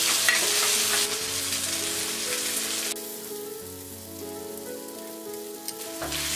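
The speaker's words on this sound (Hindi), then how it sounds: "अब हम इसमें ये कुक्ड राइस डालेंगे।" Cooked rice tipped into a pan of frying onion and tomato, then stirred through as it sizzles; a steady, close hiss of frying with scraping stir strokes, the sizzle quieting after about three seconds before a brief rattle near the end.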